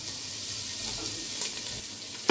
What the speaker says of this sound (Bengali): এরপর আমরা পেঁয়াজ দিয়ে দিব।